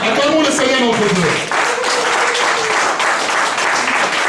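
A church congregation applauds steadily for several seconds, a dense wash of clapping that fills the room, with voices calling out over it.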